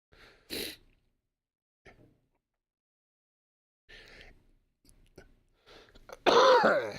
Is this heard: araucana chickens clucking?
no